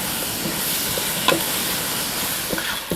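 Tomatoes are added to onions frying in a pan, giving a steady close sizzle with occasional light stirring clicks and scrapes.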